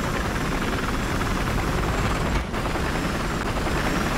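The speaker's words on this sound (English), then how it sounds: "Helicopter incoming." A helicopter in Battlefield 3 with the Project Reality mod roars steadily overhead with dense, loud rotor noise that barely wavers, dipping only for a moment partway through.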